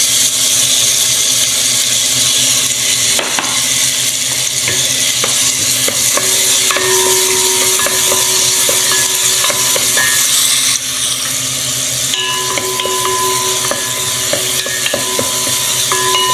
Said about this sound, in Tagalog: Lagay na natin yung ating onion.